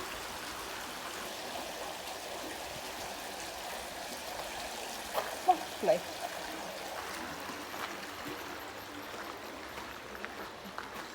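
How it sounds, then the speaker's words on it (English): Steady trickling water runs throughout, a soft outdoor stream babbling at moderate volume beside the Te Ara Kahikatea Pathway in Te Puke, New Zealand, with a brief spoken word and a couple of small knocks midway. "A bit of running water."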